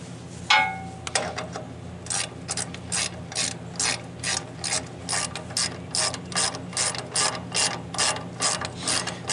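A hand ratchet tightens bolts on a Woodmizer LT15 sawmill guide rail, giving close, evenly spaced bursts of rapid clicking that repeat steadily one after another.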